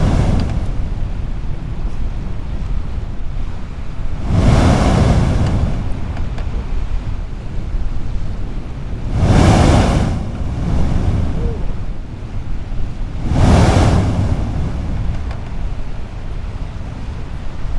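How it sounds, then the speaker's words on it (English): Sea blowhole on the rocky Albany coast, giving three loud whooshing surges roughly every five seconds over a steady backdrop of surf and wind noise. "The blowhole just in front of me here doesn't look like it's gonna spout any water, but it is making a bit of noise"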